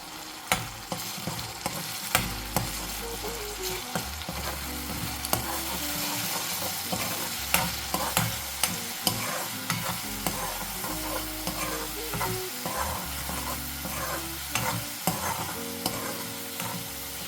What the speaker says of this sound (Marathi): हे वाटण देखील आपण तेलावर परतून घेऊया